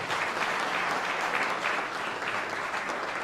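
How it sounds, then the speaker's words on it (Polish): Audience applause at a regional recitation contest, a sustained, even roar of many hands clapping in a hall, steady from start to finish. "Wielki brawa, myślę, dla nich."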